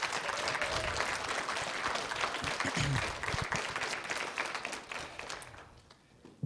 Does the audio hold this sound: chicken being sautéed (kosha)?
no